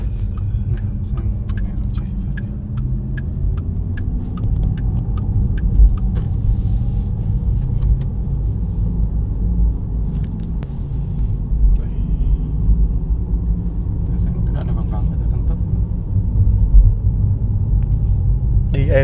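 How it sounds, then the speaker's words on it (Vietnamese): A black Porsche Taycan Turbo S accelerates with a deep, steady, smooth rumble heard from inside the car, while people talk over it. "chúng ta sẽ xem thử tăng tốc các bạn nhé. Porsche Taycan Turbo S này."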